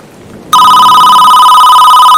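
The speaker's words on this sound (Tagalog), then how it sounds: "Biglang nag-ring yung phone." A loud telephone ring effect starts abruptly after a brief quiet moment, then holds as a continuous bright trilling bell tone.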